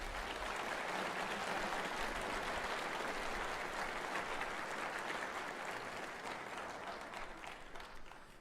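A large audience at a Central Wyoming College commencement ceremony gives a sustained round of applause, a dense even wash of clapping that holds steady and fades slightly near the end.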